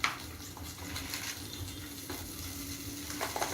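Butter sizzles gently in a pan over a gas flame, a steady, quiet crackle with faint scraping and clinks, and no voices.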